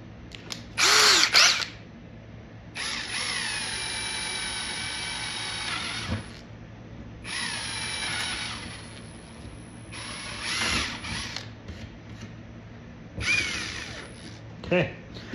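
Power drill boring holes in the back door of a Pole Position or Paperboy arcade cabinet, with a smaller bit: several loud whining bursts of a few seconds each, separated by short pauses, with no talk.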